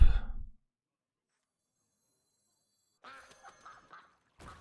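Mother Duck card in the Hearthstone video game, a short burst of sound, then silence, then a few bright, honking quack-like calls in quick succession, close and clear with no talking.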